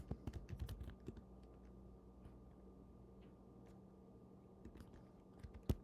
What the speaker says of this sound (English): You probably hear me typing really good, though.